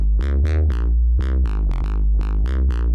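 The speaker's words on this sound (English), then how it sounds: "Perfect, and that is our bass sound." Synthesized bass patch built in Phase Plant with a limiter and boosted gain, a loud, heavy pulsing pattern of rhythmic notes with sweeping filter-like bursts on each hit, playing alone.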